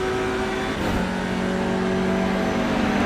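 Touring race car engine in the iRacing sim, a loud continuous drone climbing in pitch with a brief dip near the start as it shifts up, then pulling steadily higher, no voices.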